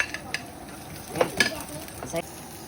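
Chopped garlic sautéing in a hot wok, a low steady sizzle with a few clinks and scrapes of a utensil against the pan, close by and fairly quiet.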